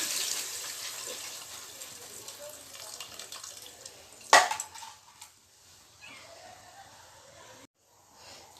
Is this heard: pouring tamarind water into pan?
yes